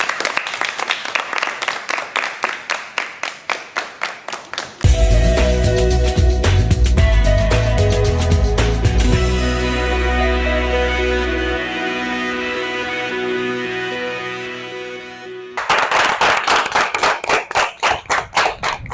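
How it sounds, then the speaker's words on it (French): Rhythmic clapping from a studio audience for a group of college girls, brief steady beats, then a burst of music and louder mixed sound in the middle before the even hand claps resume near and loud. "Applaudissez-vous, mesdemoiselles."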